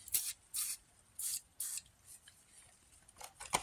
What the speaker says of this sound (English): I'm going to spray some PV Blaster on this thing right here and get it started